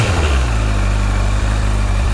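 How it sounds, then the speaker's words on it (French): A Honda CBF 1000 motorcycle on its stock exhausts idles with a steady, low, muted purr, the even engine rumble held close and constant with no other sounds. "vous entendez les échappements d'origine, ça ronronne correctement"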